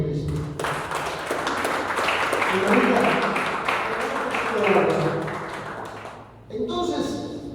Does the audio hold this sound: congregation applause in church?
yes